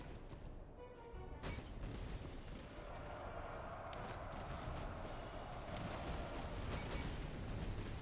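Musket volleys crack out in Master of Command as Prussian Freikorps troops fire at hussars, several sharp reports spaced across the scene over a busy battlefield rumble, moderately distant.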